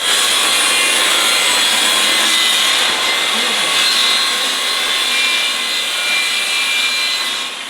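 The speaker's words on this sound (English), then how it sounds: "I cut the wrong piece of plywood for the top, wrong dimension, so I'm going to recut that and finish it off." A handsaw or power saw cuts through a sheet of plywood to recut the top panel for a van build, a steady, loud rasping wood-cutting sound that continues throughout without pause.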